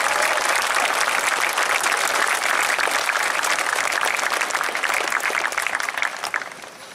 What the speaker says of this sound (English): Let's give that group a round of applause for their efforts.